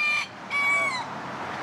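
Chickens cluck and a rooster crows at a roadside farm stop in Kansas, with a sharp crow at the start and another at about half a second, then softer clucking, fairly close and loud with no talk.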